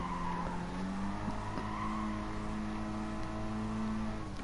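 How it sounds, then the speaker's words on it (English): A Gr. B rallycross car in Gran Turismo Sport spins its wheels, with a steady engine drone and tire noise holding at a constant level, and no voices. "Wheel spin, spinning wheels now."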